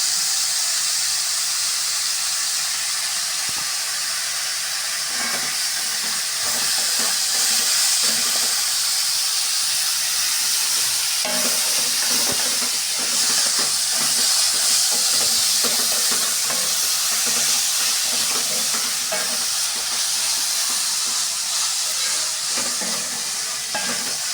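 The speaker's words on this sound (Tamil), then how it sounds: "பாருங்கள் வெங்காயம் நல்லா வதங்கிடுச்சு" Onions fry with a pinch of salt in a pan while cooking a traditional Tamil dish, producing a loud, continuous steamy sizzle and hiss with faint stirring scrapes throughout and no voices.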